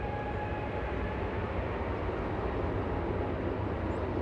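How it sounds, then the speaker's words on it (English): A Delta heavy jet takes off at LAX Airport, a loud, steady, broadband engine roar that holds unbroken throughout with no voices over it. "There's the clear for takeoff for our Delta Heavy."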